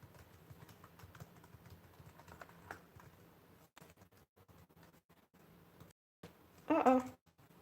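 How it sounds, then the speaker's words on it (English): Fingers tap on a computer keyboard in quick irregular runs, soft and close, with brief pauses and a louder burst of a voice near the end. "let me type this in here for y'all real quick."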